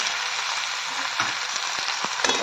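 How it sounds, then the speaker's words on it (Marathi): Chopped tomato fries with onion in a pan for garlic fenugreek curry, giving a loud, steady, close sizzle with a few faint stirring knocks and no talk. "टमॅटो आपल्याला थोडा परतून घ्यायचा"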